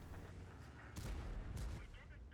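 Two heavy booming tank cannon shots in World of Tanks, from a T54 Heavy, about half a second apart, over a constant rumbling engine background.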